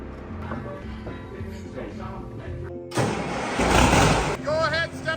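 A Steiger tractor engine bursts into a loud, rough roar for about a second and a half after people talk over a low running drone, then speech resumes.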